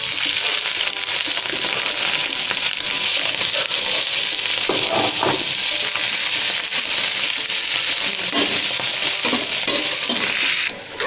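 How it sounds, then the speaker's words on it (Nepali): Thin slices of boiled buffalo meat fry over a medium flame in a pan, a steady close sizzle with faint stirring scrapes running throughout. "त्यो बफलाई पहिला फ्राई गरौँ"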